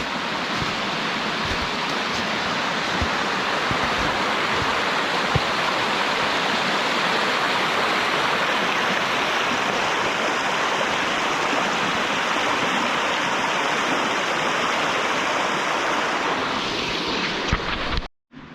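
Creek water rushing through a Central Canada forest, a loud continuous broadband wash that stays steady and close for the whole stretch before cutting off abruptly at the end, with no voices.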